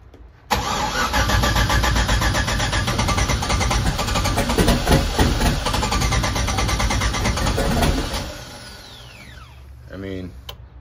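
An LS-powered NASCAR race car engine cranks loudly and continuously for several seconds without catching, then the starter cuts off, leaving faint clanks and a short whirring sound near the end.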